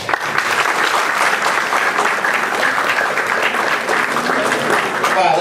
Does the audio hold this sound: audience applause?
yes